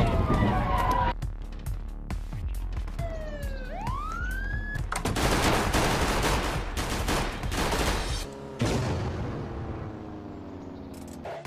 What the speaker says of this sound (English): Well, we do have more shots fired.